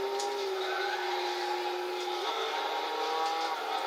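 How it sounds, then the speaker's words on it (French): The Autobacs Arta Garaiya race car's engine in Gran Turismo 6 holds a sustained, even drone with a slight pitch shift partway through, loud and steady with no voices over it. "le bruit de la voiture il est pas vilain, il a quand même un beau bruit."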